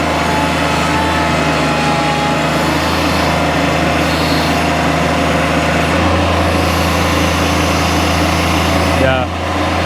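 Bobcat MT100 mini skid steer running hard in a woodyard, a loud steady engine drone with a constant low hum, held throughout before dipping slightly near the end.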